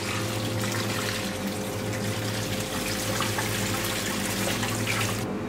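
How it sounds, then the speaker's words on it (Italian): Water pours steadily into pan pizza dough in a mixing bowl, a continuous close splashing stream lasting throughout over a low machine hum, with no talk. "Aggiungiamo la prima parte di acqua"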